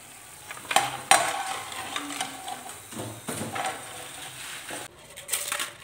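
Crisp crunching and snapping of fried rice-flour papad, several sharp cracks in bursts over a few seconds, close and fairly loud, with no talking.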